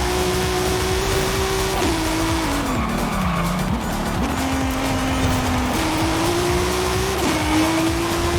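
A tuned Wuling Sunshine S racing in Forza Horizon 5, its engine droning loud and close while the pitch climbs and drops through gear changes, with tyre squeal and skidding layered over it.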